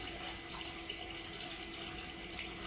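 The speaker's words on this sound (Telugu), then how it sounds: "వేడి నీళ్ళు వేసాను కదా," Hot water is poured over goat tripe as it is cleaned, making a soft, continuous rush of running water that sounds faint and fairly steady throughout.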